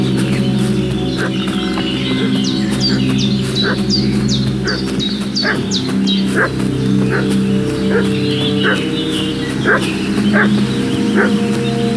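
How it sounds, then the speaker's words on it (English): A dog barks repeatedly at steady intervals in the medieval Bohemian world of Kingdom Come Deliverance 2, with chickens clucking nearby and a constant low ambient hum beneath. "What's that dog making such a fuss about?"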